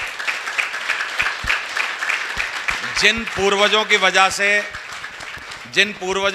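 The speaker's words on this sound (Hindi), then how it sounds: "मैं चाहता हूं उन सबके लिए जोरदार तालियां बजनी चाहिए" Audience applause at a motivational talk, a burst of many hands clapping that carries on under someone speaking to the crowd and gradually thins out.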